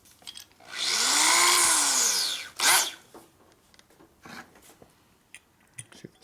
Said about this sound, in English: That's a pretty big drill I'm using right now.